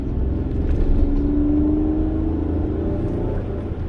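A 2016 Chevy Silverado with a 4.3L engine runs steadily nearby with a low, even rumble, a slight rise in pitch as the throttle is touched, and no one talking.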